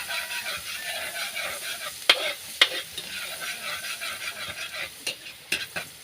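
Garlic and onion sautéing in a pan for a crab dish, a steady close sizzle with a few sharp clinks of a utensil stirring against the pan, no talking.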